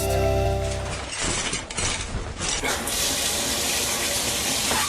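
Shower water runs steadily in a continuous, close, fairly loud hiss, with a brief faint voice near the start.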